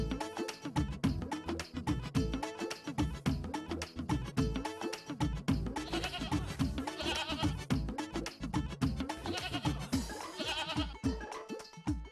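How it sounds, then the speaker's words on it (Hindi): Goat bleating repeatedly in a continuous, rhythmic series of nasal calls, fairly loud and close, with no talking. "माजी, बकरा स्टार्ट हो गया।"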